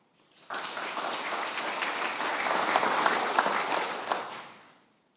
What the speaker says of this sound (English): let's give Dr. Aditi a big round of applause